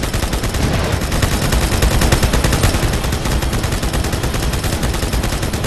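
Rapid automatic gunfire in Halo 2, loud, continuous bursts of shots packed close together, without pause.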